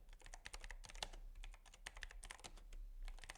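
Keys clatter steadily on a computer keyboard as a ChatGPT prompt is typed, a quick, close run of soft clicks with brief pauses and no speech.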